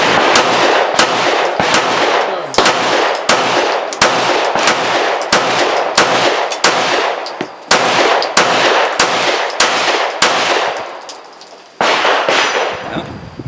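Glock 9mm pistol fed from a Jag 19 aftermarket magazine fires about twenty loud sharp shots in a fast, fairly even string with brief gaps, close and reverberant, with no talking.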